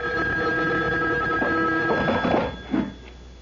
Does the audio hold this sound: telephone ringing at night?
yes